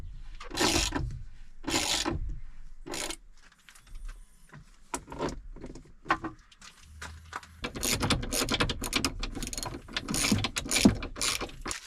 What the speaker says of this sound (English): So we'll just pop them back in and start bolting down